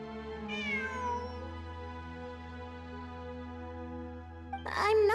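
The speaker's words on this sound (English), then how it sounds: "It really is a cat." A cat meows in the Genshin Impact video game, one rising, harmonic call near the start over a steady low background hum, followed by a short burst of another sound at the end.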